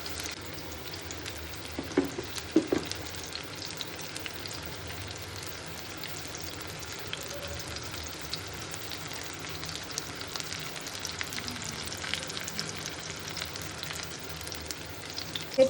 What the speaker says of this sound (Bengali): ইলিশটা একদিক ভেজে নেব, মানে উল্টাবো না।